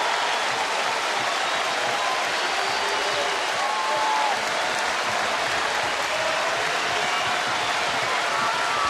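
A capacity baseball crowd at Fenway Park roars continuously with two out in the top of the ninth inning, a dense, steady wall of cheering and applause that stays loud and unbroken throughout.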